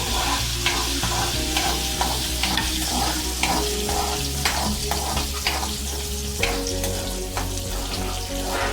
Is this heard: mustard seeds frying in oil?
yes